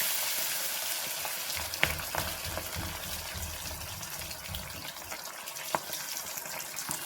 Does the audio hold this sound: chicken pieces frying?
yes